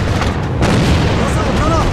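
A grenade blows up in the shooter game A.V.A, a loud booming blast with a rumbling low-heavy tail that holds for a couple of seconds amid game noise.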